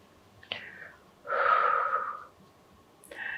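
Slow, audible breaths during a seated butterfly pose (Baddha Konasana) in a yoga session for back pain, a soft exhale swelling for about a second, then quieter inhales, close and alone without talk.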